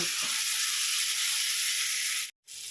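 Steady frying hiss from a pan being stir-fried with salt and turmeric, a constant moderate sizzle that cuts out briefly near the end before resuming.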